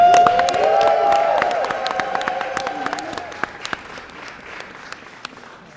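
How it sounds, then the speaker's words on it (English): A crowd applauds bill sponsors at a press conference for a millionaires tax bill signing, loud clapping that begins under a brief tonal voice and then thins into scattered, sharper claps as it dies away. "Give them a big round of applause for their work."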